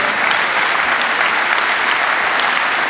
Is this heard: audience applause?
yes